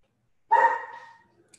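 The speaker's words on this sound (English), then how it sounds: "sorry about the pup" A puppy barks once, a single sharp yelp that trails off, heard close and loud against an otherwise quiet indoor background.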